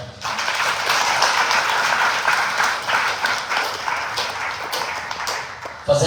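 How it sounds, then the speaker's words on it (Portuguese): Audience applause for a speaker at a talk on the role of Angola's legislature in democracy, a dense, steady wash of clapping that fills the room throughout, with no voices over it. "peço mais uma forte salva de palmas"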